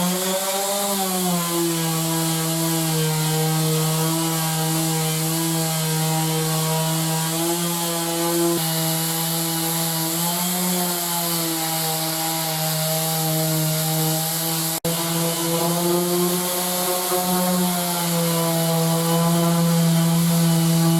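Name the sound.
power sanding the wooden workshop bench tops with sanding discs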